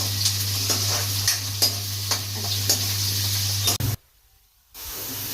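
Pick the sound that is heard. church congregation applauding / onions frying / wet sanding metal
onions frying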